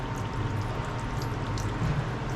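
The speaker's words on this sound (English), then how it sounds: "And there's still water coming out of this thing." Water spills steadily out of a fitting on a boat under refit, a continuous close-up splashing wash with no pauses and no talk.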